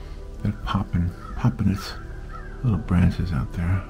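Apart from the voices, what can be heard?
crows cawing outside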